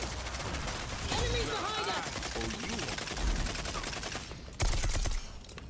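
Rapid overlapping gunfire from the Rogue Company shooter game, a dense stream of shots with a louder burst near the end, mixed with busy game effects and people talking over it.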